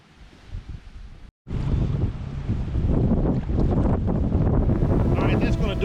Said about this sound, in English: I think the wind's probably blowing about 5 miles an hour